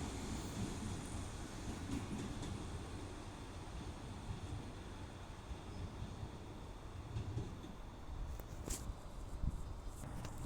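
A train rolls through Guide Bridge station with a steady, continuous rumble and rail noise at moderate distance, the sound holding level for the whole stretch without voices.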